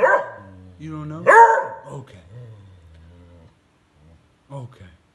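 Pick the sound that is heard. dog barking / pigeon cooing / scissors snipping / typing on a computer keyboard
dog barking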